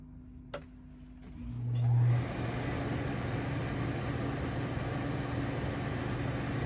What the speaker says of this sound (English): Now I'm going to turn the air back on.